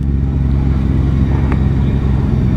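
A Honda Goldwing motorcycle engine, a 2025 50th Anniversary model on a test ride, rumbles steadily and loud at close range with a dense low drone and no talk over it.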